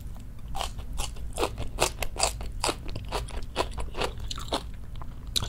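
Korean white kimchi (baek-kimchi) chewed up close, a quick run of wet crunchy bites at an even rhythm over a low background hum.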